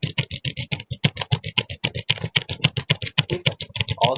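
Fast continuous typing on a computer keyboard while entering text into a spreadsheet, a dense run of crisp close key clicks at an even, brisk pace.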